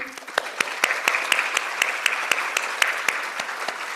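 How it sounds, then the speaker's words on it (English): Applause from an audience at an outdoor nature-based early childhood education conference, a steady wash of many hands clapping with sharper individual claps standing out, sustained at moderate level throughout. "Another round of applause for Debbie."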